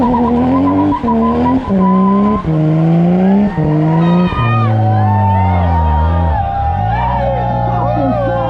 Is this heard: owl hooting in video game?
no